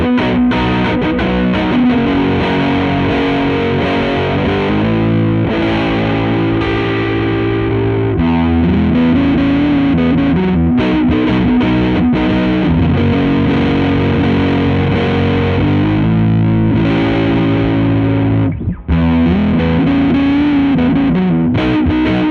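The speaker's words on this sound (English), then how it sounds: "Let's hear it in the bridge and then work our way back up to the neck." Jazzmaster-style electric guitar on its bridge pickup through heavy distortion, playing loud sustained chords and riffs continuously, with short pauses between phrases.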